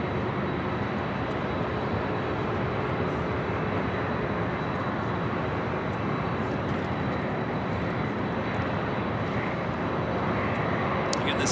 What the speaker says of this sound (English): this Delta flight heading to Honolulu, a 25-year-old 767-300ER